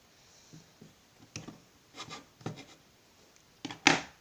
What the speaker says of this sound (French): je vais couper les extrémités